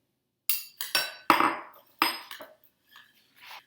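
Softened butter is mixed by hand in a bowl for a blueberry cheesecake. About five sharp, close clinks of a utensil against the bowl come in an uneven rhythm, followed by a few softer scrapes.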